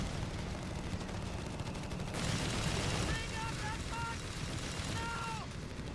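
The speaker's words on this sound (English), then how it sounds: "75mm barraging here. Looks like the mortar is probably getting involved as well." A 75mm artillery and mortar barrage in Company of Heroes 3, a dense roar of booms and gunfire that rises midway, with a commentator talking over it.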